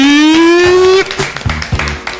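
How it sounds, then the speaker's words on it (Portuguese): Scattered hand claps from an audience greeting Lieutenant Colonel Belelli at an evening event in the Caldas Novas region, sparse and close, starting just after a loud sustained tone. "Senhoras e senhores, salva de palmas para Tenente Coronel"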